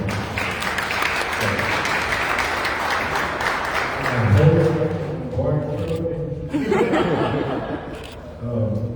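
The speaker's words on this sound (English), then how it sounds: "let's give them a great round of applause" Audience applause fills a press conference marking Alexandria's ten-year smoke-free anniversary, a dense steady patter mixed with chuckles and laughter, giving way to voices talking near the end.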